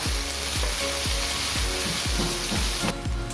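Onions fry in a pan after asafoetida goes in for sambhar, a loud constant sizzle broken by a regular rhythm of about six scraping stir strokes, close up and with no speech.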